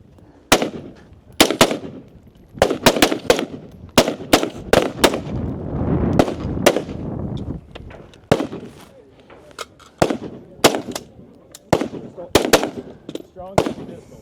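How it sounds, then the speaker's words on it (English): Sharp rifle and pistol shots ring out at a multi-gun shooting competition stage, loud irregular reports fired in quick strings with brief pauses, some echoing, over a low rumble of background noise. "And now they will move to their first firing sequence. They will have rifle and pistol, 10 shots for each."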